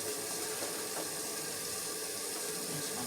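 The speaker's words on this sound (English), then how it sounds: "Rinse my can off." Tap water runs steadily over a food can being rinsed at a kitchen sink, a continuous soft hiss and splash that is fairly quiet and has no talk over it.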